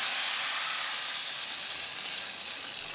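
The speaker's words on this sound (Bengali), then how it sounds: "ফোড়নটা হয়ে গেলে ডালের মধ্যে আমি ঢেলে দিচ্ছি" Hot mustard oil tempered with black cumin is poured into a pot of dal and sizzles loudly, an even, steady, hissing fry that holds for the whole stretch with no voices.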